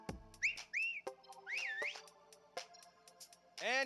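Several whistled notes in the Detective Pikachu video game, rising and falling chirps in quick bursts among sharp clicks, with a final swooping whistle at the end.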